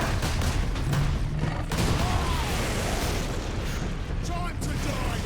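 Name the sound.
rocket explosions in video game Warhammer 40,000: Space Marine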